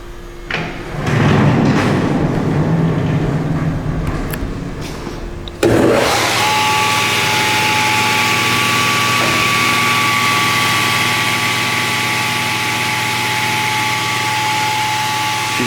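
SCMI SI 16 W sliding table saw: a brief thump and whir as the motor kicks on, then a loud, steady high whine from the main and scoring blades spinning at full speed, alone without talk.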